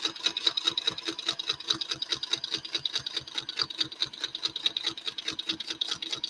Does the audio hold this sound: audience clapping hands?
no